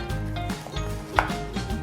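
A knife slices through the middle of a cheese-filled corn dog with sausage, giving a few soft, close chopping thuds against a board with no voices.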